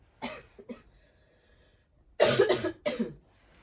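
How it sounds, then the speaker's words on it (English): A person coughs several times close by, a couple of short coughs first, then a harsher cluster after a brief quiet pause. "Sorry, I have to cough again."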